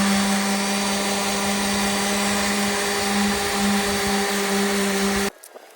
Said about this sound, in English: I'm doing more sanding now to keep it smooth.